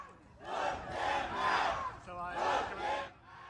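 Protest crowd in Parkersburg, West Virginia, with fired federal workers chanting a rhythmic two-part slogan in loud repeated bursts, voices swelling and dipping together in unison.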